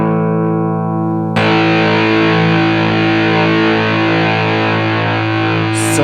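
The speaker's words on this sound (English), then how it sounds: "Filter is at 2 o'clock. Volume's at 2 o'clock. Distortion is dimed." Electric guitar through a 1980s ProCo Rat II distortion pedal with distortion fully up, filter and volume at two o'clock: a quieter tone, then a loud saturated chord struck and held as a long buzzing sustain.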